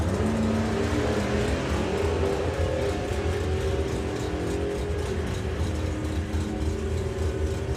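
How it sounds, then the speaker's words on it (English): A hot rod drag racing car launches at a nostalgia drag event at Santa Pod Raceway, a loud continuous engine roar held steady throughout with no talk. "That is way faster than I've seen that car go. It sounds strong."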